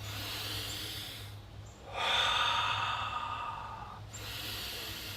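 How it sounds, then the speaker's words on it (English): Slow, deep breathing close to the mic, a long audible breath in followed by a longer breath out, with faint background hum. "Breathe in. And out."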